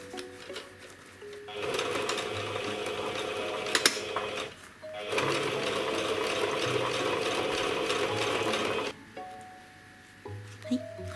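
A sewing machine stitches a zipper into a fabric pouch, running in two sustained bursts of rapid mechanical whirring and clatter separated by brief pauses, close and clear.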